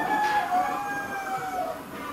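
Chickens kept in a battery of poultry cages give a drawn-out crowing and clucking call, with a few overlapping bird voices sounding close over a hum of background noise.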